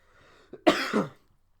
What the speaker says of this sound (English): oh god, a cough